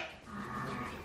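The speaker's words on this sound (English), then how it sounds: "We're gonna try to move some sheep." Sheep on an Oklahoma ranch give a brief, fairly faint bleat, a single drawn-out call heard at moderate distance with no one talking.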